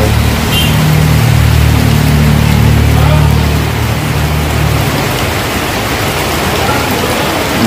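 Steady, heavy rain pouring down in a continuous dense hiss, with a low rumble underneath throughout.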